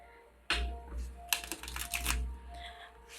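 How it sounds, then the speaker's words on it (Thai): A deck of playing cards riffle shuffled by hand, giving two bursts of dense rapid flutter close up over a low background hum, no clear talk. "โอเคกรีดไพ่เนาะเขาเรียกกรีดไพ่เนาะ"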